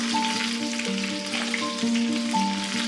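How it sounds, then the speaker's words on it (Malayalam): Curry leaves and onion sizzling in hot oil for a Kerala fish curry, a soft steady frying crackle heard close up, with a faint tonal hum running underneath. "ഉള്ളി കാച്ചനായിരിക്കും നമുക്ക് കുറച്ച് വേപ്പിലയും കൂടി ഇട്ട് കൊടുക്കാം"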